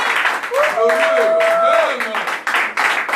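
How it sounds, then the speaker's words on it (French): Rhythmic clapping and applause from a church congregation during a French-language sermon, with voices and a sustained sung or called-out tone over the claps. "Applaudissez pour ça."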